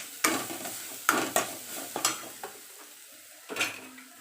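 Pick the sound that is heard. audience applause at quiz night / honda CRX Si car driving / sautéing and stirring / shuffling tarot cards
sautéing and stirring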